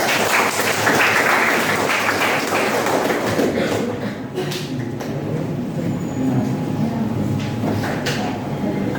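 Audience at a motivational workshop breaks into a thick burst of clapping that is loud for the first few seconds, then thins and fades under murmuring voices and room noise.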